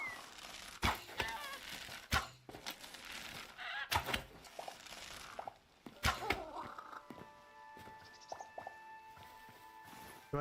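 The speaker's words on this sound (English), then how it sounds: "Turkeys." Turkeys in the game Hytale, scattered gobbling and honking calls mixed with thuds and clicks, a few sharp bursts over quiet stretches, with some faint chimes near the end.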